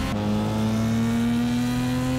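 A Bugatti Veyron in Gran Turismo 5 holds a steady, loud engine drone at a sustained pitch, with a brief shift in tone near the start and no talking.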